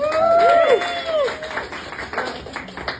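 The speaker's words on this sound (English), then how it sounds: "Let's give a soft applause." An audience at a strongman show inside a dime museum gives scattered, soft applause, heard under a few whoops and some voices, fading over about three seconds.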